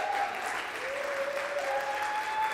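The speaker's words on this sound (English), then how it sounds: "Give her a round of applause." An audience at a live Thursday night performance event applauds a performer taking the stage, a steady wash of many hands clapping that holds at an even, moderate level throughout, with a faint tone sustained underneath.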